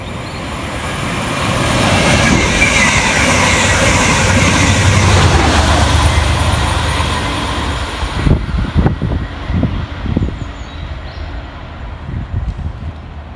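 Chiltern Class 68 locomotive 68020 hauling passenger stock races through Olton station, a loud sustained rumble and roar swelling as it passes, then fading into clattering wheel thumps over rail joints as the train recedes.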